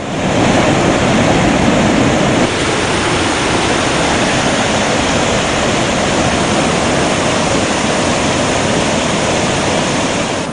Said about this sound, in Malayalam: അര കിലോമീറ്റർ പിന്നിടുമ്പോഴേ വെള്ളച്ചാട്ടത്തിന്റെ ഇരമ്പം കേൾക്കാം